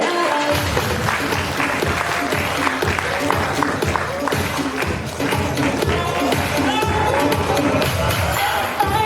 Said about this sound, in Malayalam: ഒന്ന് കൈയടിച്ച് പ്രോത്സാഹിപ്പിക്കുക